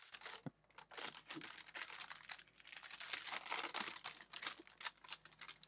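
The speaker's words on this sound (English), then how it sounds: "the sound that the paper makes once it has been used" Thin onion skin paper crinkles and rustles up close in repeated crisp bursts, quiet overall with short pauses between handlings.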